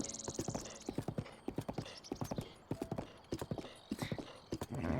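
A horse trotting in Zelda Breath of the Wild, with rapid rhythmic clip-clop hoofbeats in steady bursts, fairly quiet, with a brief whinny-like tone near the start.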